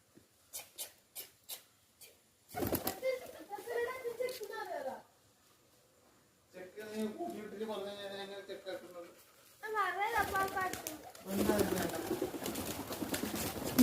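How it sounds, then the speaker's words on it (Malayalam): Pet pigeons cooing at home, soft rhythmic coos and throaty warbles near the microphone, with a person talking over them and a few light taps at the start. "ഇവിടെയും കുറച്ച് പ്രാവുകളുണ്ട്, കാണിച്ചു തരാം."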